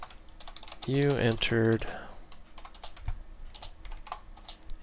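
C++ code being typed on a computer keyboard, a close run of quick, light key clicks, briefly under a voice and then continuing alone.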